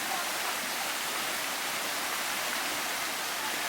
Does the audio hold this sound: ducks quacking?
no